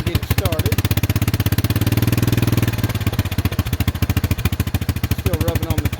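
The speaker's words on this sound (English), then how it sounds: "Have to give it a little gas here to get it started." A small engine on an old camper-frame project gets a little gas to start moving, chugging in a fast steady pulse that swells briefly and then settles back.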